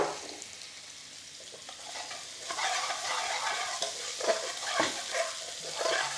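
Kasuri methi dropped into a pan of frying lamb curry base with bay leaf and cinnamon, giving a steady close sizzle that swells with stirring scrapes partway through, no voices.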